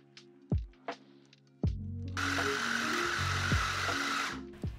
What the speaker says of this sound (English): Add the PD dates into the food processor, and then chop them until they are finely chopped.